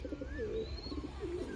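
Soft cooing of pigeons nearby, low throaty warbles repeating over a quiet background.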